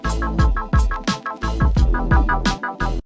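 A synthesizer plays a punchy pulsing pattern of rapid sixteenth-note stabs, each with a sharp bright attack and a fast falling sweep, the modulation depth shifting from beat to beat; loud, close and without talking.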